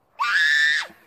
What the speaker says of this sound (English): Make him scream.